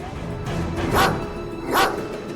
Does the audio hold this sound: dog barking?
yes